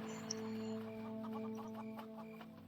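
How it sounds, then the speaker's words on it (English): Soft clucking of chickens in Neverwinter Nights over a steady, droning game background tone, with a few small chirps near the start. "Some chickens here."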